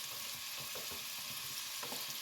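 Steady sizzling of sweet red pepper and black pepper frying in oil for a buckwheat dish, a constant hiss with a few soft stirring clicks, close and fairly quiet, no voices.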